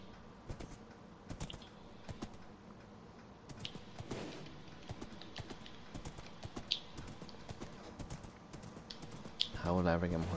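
Hollow clip-clopping of horse hooves from the Minecraft video game, a steady run of small knocking steps mixed with faint game sounds and short bursts of talk throughout.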